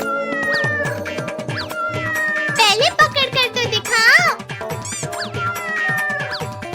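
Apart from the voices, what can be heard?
cartoon cat meowing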